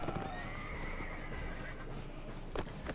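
A horse neighs with a long, loud whinny, followed by quick clip-clopping hooves in the Mount & Blade Imperial Rome video game, close and clear over a busy background.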